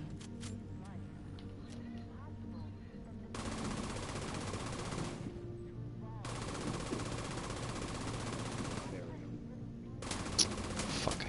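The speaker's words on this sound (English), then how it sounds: "Let me throw out my turret again." Automated turret deployed in The Division 2 fires in long sustained bursts, three stretches of rapid gunfire with short pauses between, loud over quieter game background.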